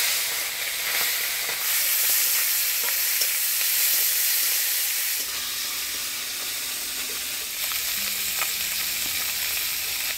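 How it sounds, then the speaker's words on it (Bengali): Fish fries in oil in a pan, producing a loud, dense, continuous hiss and crackle that eases slightly partway through, with occasional light spatters. "তো প্রথমে মাছটা ভাজে নিব।"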